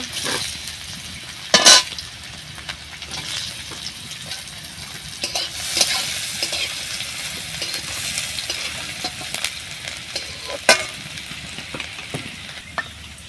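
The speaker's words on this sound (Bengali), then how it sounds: "তেল গরম হয়ে গেছে, এবার আমি গাজরটা দিয়ে ভাজা ভাজা করে নেব।" Carrots hit hot oil in a kadai and fry with a continuous soft crackling hiss, broken by a few sharp metallic clinks of a utensil against the pan.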